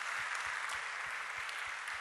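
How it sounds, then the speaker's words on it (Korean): Steady applause from an audience, a dense wash of clapping at moderate volume for the whole short stretch. "장영호 선교사님, 네, 우리 박수로 한번 환영할까요?"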